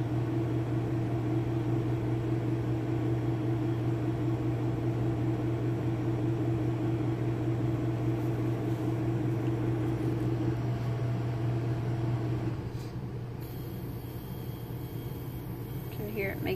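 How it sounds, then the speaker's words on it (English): An i-STAT electronic simulator cycles with a steady, low mechanical hum and whir that holds evenly for about twelve seconds, then drops in level near the end. "You can hear it making the"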